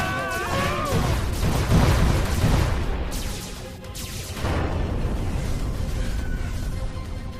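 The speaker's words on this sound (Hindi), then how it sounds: "फायरिंग रुक गई।" Gunfire from a spaceship attacking in a Motu Patlu cartoon comes as loud, dense bursts of blasts and rumbling explosions that are heavy at first, ease briefly, then return, with cartoon voices and music mixed in.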